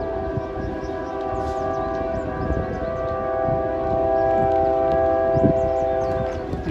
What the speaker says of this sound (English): Got an eastbound coming with a rather sick horn.